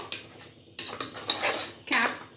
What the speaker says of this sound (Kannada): ಪೂರ್ತಿ ಮಸಾಲೆ ಹಾಕಿ ಚೆನ್ನಾಗಿ ಮಿಕ್ಸ್ ಮಾಡ್ಕೊಳ್ಳೋಣ.